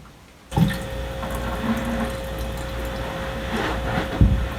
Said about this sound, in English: And we're gonna add some water to it.